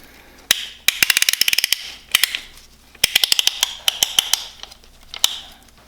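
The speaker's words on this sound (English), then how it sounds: "Now we're going to get our ring compressing little band." A piston ring compressor band on a Four Winns boat engine is ratcheted tight, producing close, sharp clicking bursts in quick runs separated by brief pauses.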